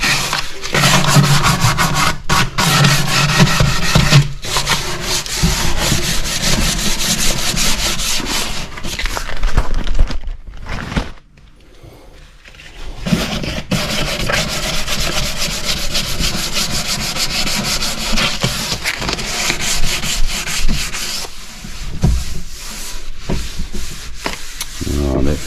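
Wood is sanded by hand during furniture restoration: continuous rasping rubbing strokes, close and loud, with a short pause midway before the scraping resumes. No speech.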